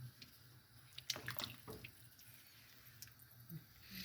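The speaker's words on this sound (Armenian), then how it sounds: "հիմա էլ սովորական ջուր եմ լցնում, սառը ջուր է" Cold water is poured into a cooking pot of meat broth, a quiet splashing trickle with a few louder gushes early on, then a soft, steady run of water.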